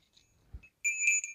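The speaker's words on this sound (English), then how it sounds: "Really nice angel bell." A small decorative angel bell rings out clearly, a sustained bright chime with a couple of strikes that linger, preceded by faint handling noise and no talk.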